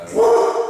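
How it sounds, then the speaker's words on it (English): A dog in a CrossFit gym gives one short, loud, close yip-like bark, with a voice overlapping it. "That's the dog here, Abby, also the mascot here at CrossFit."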